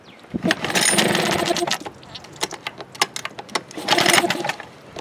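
A 5 hp Mercury two-stroke outboard engine, with the choke pulled out, is pull-started in bursts of rough, rattling cranking and brief sputtering, separated by clicks and quieter gaps, close and fairly loud.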